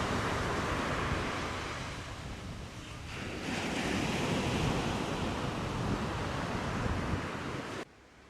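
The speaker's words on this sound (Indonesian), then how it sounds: "Siang itu ombak di Pantai Klotok cukup bersahabat dan tidak begitu besar." Moderate midday waves roll and wash continuously onto the pebbly shore of Klotok beach, with gusty wind buffeting the microphone, before the sound drops away abruptly near the end.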